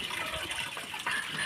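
Children jumping into cold water for a Makar Sankranti bath, heard as a steady, close splashing gush of water throughout, with a brief surge near the end.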